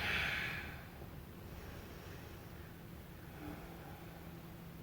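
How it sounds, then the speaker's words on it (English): One deep breath let out during a yoga stretch, a soft airy rush at the start that fades into quiet room hiss, close and gentle. "Great big exhale."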